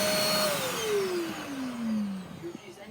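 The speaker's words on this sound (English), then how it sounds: "This is a very strong vacuum." A Karcher WD 3 P wet/dry vacuum cleaner runs loud and steady, its motor whine sliding slowly down in pitch before settling into a continuous roar.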